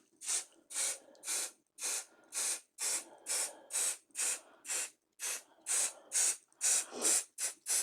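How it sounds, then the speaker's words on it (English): An aerosol can hisses in a long series of short, even sprays onto a cutting mat from about a foot away, each burst separated by brief pauses, close and steady. "I'm just going to give it another spray"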